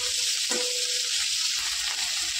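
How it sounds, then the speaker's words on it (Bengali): Onions frying in oil in a pan while being stirred for a roll filling, a steady close hiss of sizzling with a brief scrape of the spoon partway through. "প্রথমে পেঁয়াজগুলো একটু তেলের উপরে দেব, হালকা একটু নেড়ে চেড়ে নেবো ১-২ মিনিট।"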